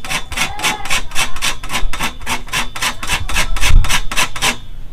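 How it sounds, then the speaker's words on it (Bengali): A lemon's peel is rubbed against a kitchen grater in quick, regular rasping strokes, about three per second, close and loud, each scrape a sharp bright burst, for making a lemon pickle. "লেবুর যে খোসাটা আছে এই সাইড পুরো গাটা পুরো ঘষে নেবো। এই যে একটা গ্রেটার"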